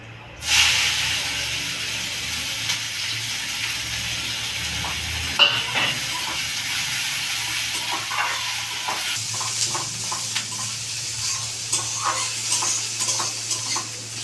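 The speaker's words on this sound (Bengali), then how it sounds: "পেঁয়াজগুলোকে লাল করে ভেজে নিয়েছি" Onions fry in hot oil with bay leaves, whole dried red chillies, whole garam masala and cumin, giving a steady close sizzle and hiss throughout with occasional light scrapes and clinks of stirring.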